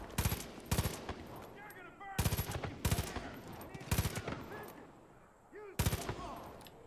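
Gunfire from the video game Far Cry 5, played on hard mode: repeated loud bursts of automatic fire in short clusters separated by brief pauses, with faint background game sounds in between.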